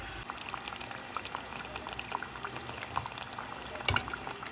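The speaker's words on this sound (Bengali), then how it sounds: "এক এক করে পিঠাগুলো ভেজে নিচ্ছি" Pitha cakes fry in hot oil, giving a steady bubbling crackle with scattered sharper pops and one brief louder burst near the end, close and moderately quiet with no talk.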